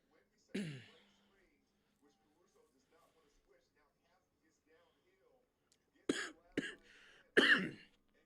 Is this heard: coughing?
yes